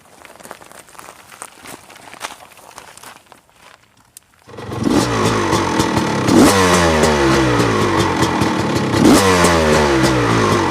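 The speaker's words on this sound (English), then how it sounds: "let's go take this bike ride and it's going to make some noise" Quiet rustling and clatter, then a 2005 Honda CR250R dirt bike engine roars up loudly, revving in rising and falling surges close by.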